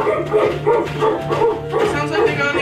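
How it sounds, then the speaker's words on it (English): Dogs bark repeatedly in a dramatic scene of people fleeing on foot, the rhythmic barking mixed with voices and a steady low hum throughout. "I can hear the dogs."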